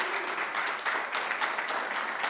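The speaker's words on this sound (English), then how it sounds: "let's give you guys a round of applause" Applause at a school district board meeting as students are called up with their trophy, a steady, moderately faint patter of clapping lasting a couple of seconds with no one speaking over it.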